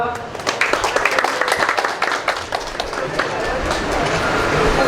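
Audience clapping at a health camp event in Maharashtra, dense rapid applause that swells, thins slightly midway and then builds again into a loud, steady patter.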